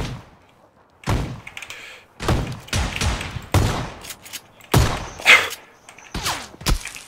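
Heavy gunfire rings out in the online shooter game in the Pochinki area, coming as a series of loud, booming bursts in irregular clusters, some near and some slightly distant, with no voices over them.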